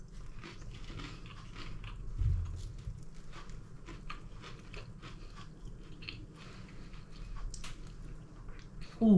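Someone bites into a crunchy air-fried cheese and ham toastie, giving quiet, close crunches followed by soft, irregular chewing noises.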